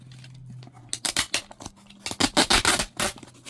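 Adhesive tape is pulled off the roll and pressed down in close, crackly ripping bursts, one cluster near the start and a longer run of quick tearing strokes after it.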